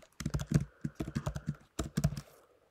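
Rapid, close clatter of keys on a computer keyboard, bursts of quick keystrokes separated by brief pauses, clear and alone without talk.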